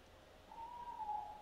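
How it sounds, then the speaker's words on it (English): A single soft owl hoot sounds in the game Until Dawn, a faint, slightly wavering tone that rises and falls once over quiet background noise. "I think that's an owl."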